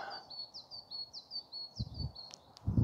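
Small birds sing repeated bright, rising chirps outside a Zen meditation hall at Jeonghyesa, a temple above Sudeoksa, clear and moderately near, with a few soft rustles and thumps near the end.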